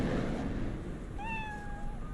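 A hairless cat in the Cyberpunk 2077 video game gives a single drawn-out meow, moderately clear over a steady game ambience hum.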